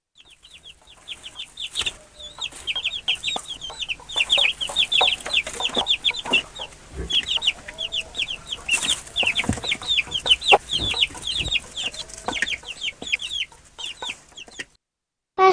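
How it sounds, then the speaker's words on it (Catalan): Farmyard chicks cheep in rapid, high repeated peeps while hens cluck beneath them, a busy continuous chorus that stops abruptly near the end. "Aquesta és la història del pollet Pepet, que passava els dies plegant el solet"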